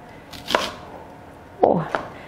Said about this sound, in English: I'm just chopping onions.